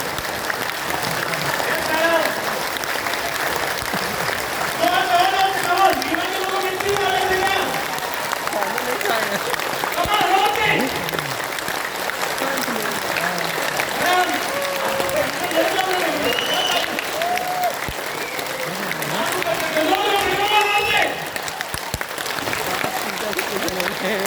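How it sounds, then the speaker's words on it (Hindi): A large meeting audience claps with hands raised, long sustained rhythmic applause throughout, with voices and cheering mixed in over the steady clapping. "हाथ ऊपर करके बजा ताली।"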